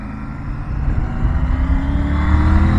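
Triumph Tiger 900 GT Pro motorcycle from 2023, with 11,500 km on it, accelerating from low revs as engine drone steadily rises in pitch and loudness, close and continuous with no talk over it.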